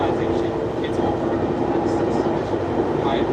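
A Northstar commuter train rolls along from inside the car, with a constant loud rumble, a low steady hum and faint rattles throughout.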